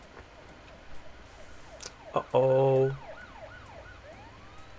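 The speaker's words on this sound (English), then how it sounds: "sirens." A brief siren whoops and wails for about a second in a Silent Hill movie scene, sharp and close over a car driving on a road, followed by fading sweeps and a short spoken reaction.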